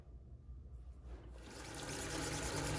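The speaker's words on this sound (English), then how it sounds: "I am just going to wash the paint off of my stencil so that I can reuse my stencil" Tap water gushes over a screen-printing stencil to wash off paint, starting quietly and swelling into a steady hiss of spray and splashing that continues to the end.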